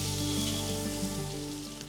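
Onions, dried red chillies and green chillies fry in ghee with a steady, dense sizzle that holds close and even throughout, with no voices.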